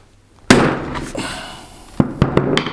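A heavy hammer strikes a hard hat in a test of protective headgear, giving one loud sharp impact followed by a trailing rattle and then several smaller knocks and clatters close by.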